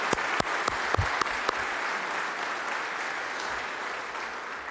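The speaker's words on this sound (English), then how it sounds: "If I can, round of applause." Applause for a swing band at a Veterans Day breakfast, with a few sharp claps at the start that settle into steady, sustained clapping from a sizeable crowd, fairly close and with no talk over it.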